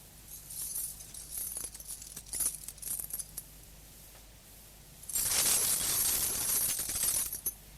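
A bunch of keys jingles near a broken window pane in a radio drama: light metallic tinkles and clinks first, then a louder, sustained shaking jangle that rings bright and close for a few seconds.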